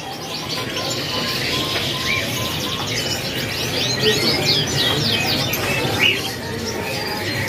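Several canaries at a bird-seller's kiosk chirp and trill in quick, overlapping bursts close by, with softer cooing and other birds in the background and a person speaking briefly.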